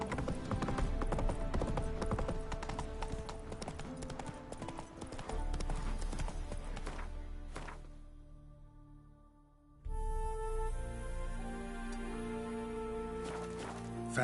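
Roach the horse trots through The Witcher 3 with rhythmic clip-clop hoofbeats over music and ambience; the sound thins briefly midway, then resumes with a brief snort.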